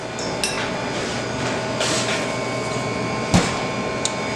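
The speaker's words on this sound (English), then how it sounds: "Now we're gonna put that in our oven." A pan of cranberry oatmeal bars goes into an oven set to 375 degrees: a few light clatters and one sharp, close thunk over a steady background hum.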